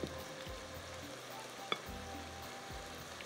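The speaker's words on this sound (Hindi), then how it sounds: "यहाँ पर मैंने प्याज रख दिया, ये देखिए थोड़ा सा इसको हमने अच्छी तरह से फ्राई करना है" Onions frying in a pan while a methi dana fish dish is prepared, giving a continuous, even sizzle close by, with a few soft stirring or scraping touches and one small click; no talking.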